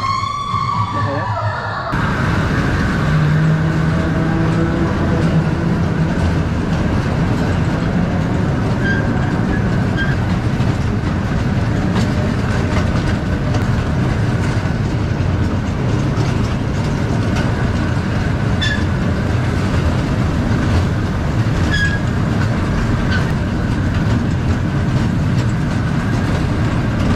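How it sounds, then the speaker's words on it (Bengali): Amusement park ghost train ride at Subornogram Park in Narayanganj, Bangladesh: a steady rumbling roll with rail clatter and mechanical whine runs loud and close throughout, with people talking over it. "আমি হচ্ছে ট্রেনে উঠছি মাত্র"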